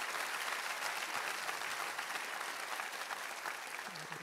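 A church congregation applauds its choir with dense, steady clapping from a large crowd that fills the room. The clapping holds at an even level for the whole stretch.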